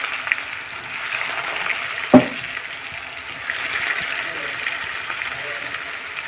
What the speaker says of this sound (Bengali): এই তেলে ডিমটা ভেজে নিচ্ছে